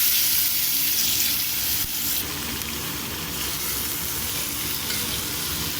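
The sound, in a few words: onions frying in a pan for mutton keema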